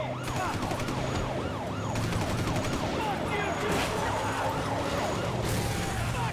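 Police sirens wail in GTA 5 gameplay, a rising and falling rhythmic whoop repeating steadily over engine and game noise, joined by further siren bursts later.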